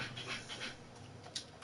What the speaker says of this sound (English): And that's my dog whining and scratching in the background